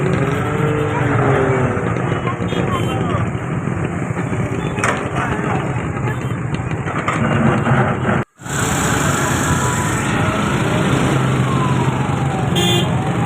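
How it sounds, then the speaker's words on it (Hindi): Heavy road traffic on Shaheed-e-Millat Road in Karachi, a dense roar of engines with horns and passing vehicles, loud and continuous, broken by one brief cut, with someone talking throughout. "यहाँ का ट्रैफिक हाई जाम रहता है"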